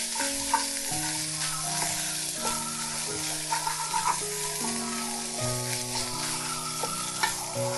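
Potol dolma filling with chopped raisins and ginger paste stirred and fried in a pan, a continuous close sizzle with repeated scraping strokes of the spatula, a faint musical tone lingering in the background.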